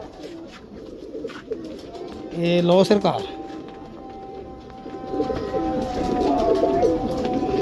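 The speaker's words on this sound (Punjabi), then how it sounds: "ਡਬਲ ਕੜੀ ਵਾਲਾ ਕਸੂਰੀ ਕਬੂਤਰ ਆ ਗਿਆ ਜੀ" Double-collar Kasuri pigeon cooing in a short burst of deep, rolling calls, close by, with someone talking over and around it and other birds faintly chirping in the background.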